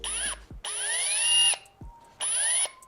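A Black Zero BZD01P cordless drill runs in three bursts; each bright, whining motor note spins up in pitch, holds, then cuts off, close and loud with no talk.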